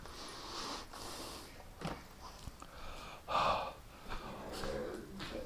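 Close, breathy snorts and grunts from a dog come in short irregular bursts, with a quiet shuffling background between them.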